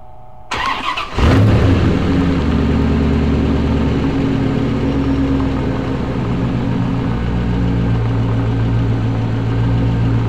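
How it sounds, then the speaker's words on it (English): A loud car engine cranks briefly, catches with a sharp roar, then settles into a steady, rumbling idle close by that continues unbroken with no talking. "I wish my car wasn't so loud"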